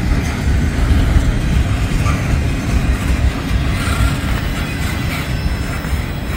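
A long freight train hauled by a single locomotive rolls through Hamilton with a loud, continuous rumble and the rattle of wagons passing close by, steady throughout with no voices.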